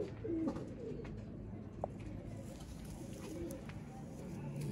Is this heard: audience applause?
no